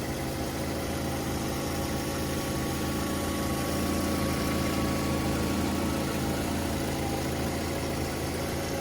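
A 2008 Mazda 3 hatchback's 2.3-liter four-cylinder engine idles with a steady, smooth low hum and faint mechanical whir, continuous and even throughout with no talking.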